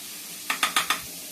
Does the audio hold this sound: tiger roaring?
no